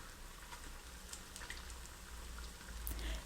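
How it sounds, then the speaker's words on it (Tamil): Banana fritters (palam pori) frying in oil in a kadai over medium heat, giving a steady, quiet sizzle and bubbling with scattered small pops and crackles throughout. "ஸ்டவ் மிதமான தீயில் வச்சு ஒரு சைடு நல்லா ஃப்ரை ஆகட்டும்"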